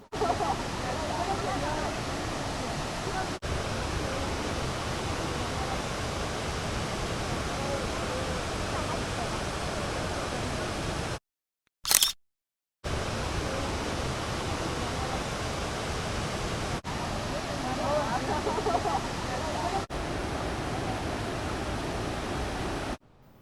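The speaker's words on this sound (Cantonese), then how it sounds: "已經見到瀑布" Huangguoshu Falls in Guizhou roars with a continuous, loud, broadband rush of falling water, broken only by a brief silent gap partway through.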